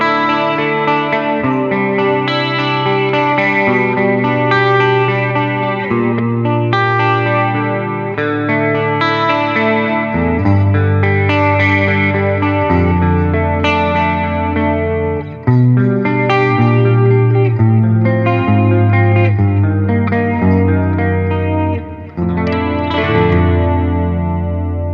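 Collings I35 LC electric guitar on its middle pickup position, played continuously through effects with distortion, chorus and reverb, loud sustained chords and melodic lines throughout with no talking.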